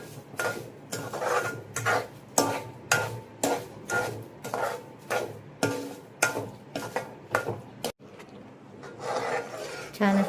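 Sugar being stirred into jamun (Java plum) jam in a pan, a spoon scraping and rasping against the pan bottom in a steady repeated rhythm of about a dozen strokes, close and fairly loud with no talk.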